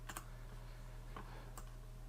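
A few quick keystrokes on a computer keyboard land as soft, close clicks, with a short burst near the start and two single taps later against quiet room hiss.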